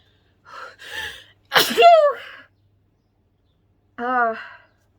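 A person sneezes repeatedly: a soft lead-in breath, then a sharp loud sneeze near the two-second mark, and a second, shorter sneeze a couple of seconds later, each close and alone with silence between.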